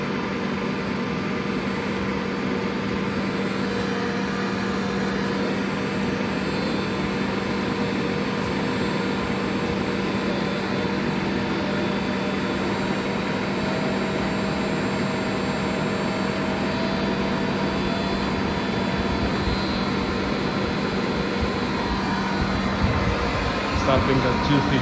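A Bruderer BSTA 50 press running on a new motor with an HF inverter, giving a steady, even mechanical hum and whir with no change over the whole stretch.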